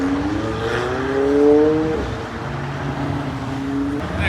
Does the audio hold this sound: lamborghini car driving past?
yes